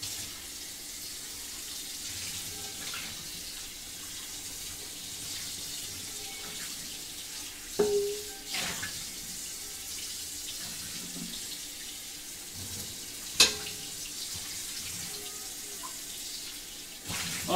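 Tap water runs steadily into a sink while a new wok is rinsed, a continuous close hiss with a couple of brief clanks of metal partway through and no talking.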